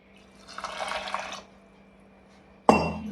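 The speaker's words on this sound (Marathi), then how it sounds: "याच वाटीने एक वाटी पाणी टाकून घेते" A bowl of water is poured into a pressure cooker holding washed moth beans. A short, close splashing pour comes first, followed by a pause and then a sharp metallic clatter.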